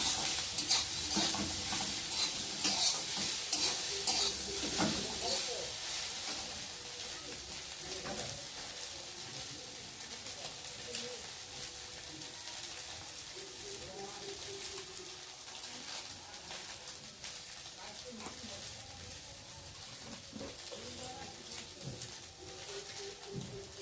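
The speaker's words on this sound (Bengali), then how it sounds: "সয়াবিনটাকে ভালো করে ভেজে নেব।" Soybean chunks with turmeric fry in oil in a pan, a soft steady sizzle broken by repeated scraping and stirring strokes of a spoon against the pan, with occasional faint distant birdsong.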